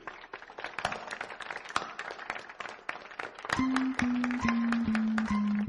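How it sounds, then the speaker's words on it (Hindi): A classroom of students claps for a classmate named Ravi, with a dense, rapid patter of many hands at a steady, moderately loud level. Near the end a voice begins speaking over the clapping. "चलो रवि के लिए तालियां।"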